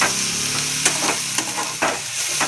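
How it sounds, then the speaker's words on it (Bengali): Ground turmeric, cumin, salt and black pepper stir-frying in a pan, a steady close sizzle broken by several sharp scraping strokes of a spatula, with no talking. "হলুদ গুঁড়ো, জিরের গুঁড়ো, স্বাদ মতো নুন, একটু গোলমরিচ গুঁড়ো, সব আমরা একসঙ্গে দিয়ে দেবো। দিয়ে ভালো করে কষিয়ে নেবো।"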